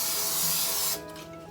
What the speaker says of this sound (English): I preheated my Ninja air fryer. And I'm going to do a little spray